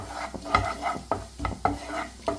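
A small amount of cornflour roasts in butter in a pan while being stirred, producing a regular series of firm spatula scrapes about every half second over a soft sizzle, close and alone with no speech.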